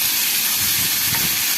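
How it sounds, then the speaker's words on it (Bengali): Paneer frying in white oil with cumin seeds: a loud, dense hiss of sizzling oil filling the whole moment, steady and close with no voices. "এবার পনিরটা আমি সাদা তেলে ভেজে নেব"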